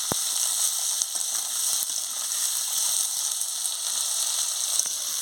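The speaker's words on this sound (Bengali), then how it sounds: "এই যে আলু পটলটা দিয়ে ভালো করে ভেজে নিচ্ছি" Potatoes and pointed gourd fry in a pan with a steady, bright sizzle that holds at an even level throughout, with a few faint clinks and no voices.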